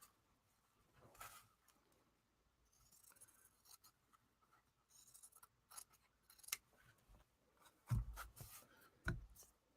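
Scissors snip through material for a cigar box ring jewelry holder, several faint, quiet cuts and rustles close by, with a few sharper clips near the end.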